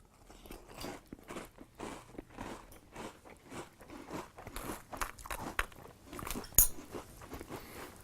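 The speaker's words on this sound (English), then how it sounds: "the donuts are still crunchy in milk" Hostess Donettes cereal is crunched in milk with close, repeated crisp bites and chewing crunches in an irregular rhythm, loud and alone with no talk.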